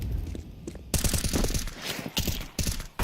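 AK rifle fire in Counter-Strike 2 during a competitive match: bursts of rapid gunshots rattling in quick succession, loud and dense, with brief pauses between volleys and a clattering game-mix background.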